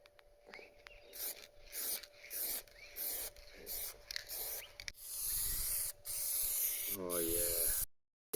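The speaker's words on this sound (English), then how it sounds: "meant to be spray painting the car" Bursts of aerosol spray hiss in repeated short pulses, then one longer sustained blast, as Penetrol is sprayed onto a faded Chevrolet SS; a light wind and a voice come in between the bursts.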